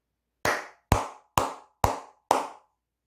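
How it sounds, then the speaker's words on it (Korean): Five sharp hand claps ring out alone in an even rhythm, each crisp and close with a short decay, separated by clear silence. "크게 박수 한번 치고 가도록 하겠습니다."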